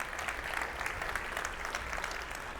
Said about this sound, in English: a round of applause for bike safety